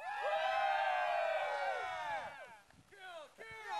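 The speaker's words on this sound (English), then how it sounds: "And the crowd goes wild." A crowd cheers and whoops wildly, a dense wash of many excited voices that swells loudly at first, then thins and breaks into scattered shouts.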